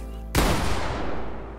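A single loud, close gunshot in the Fortnite video game bursts out sharply and then fades into a long, decaying boom.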